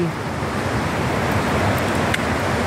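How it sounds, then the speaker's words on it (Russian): Turbulent mountain river near Doodhpathri, Srinagar, rushing in a loud, dense, unbroken roar close by, with light wind buffeting the microphone. "и вот такая вот бурливая река впереди"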